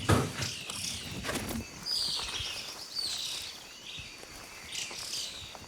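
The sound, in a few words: antbird calls near army ant swarm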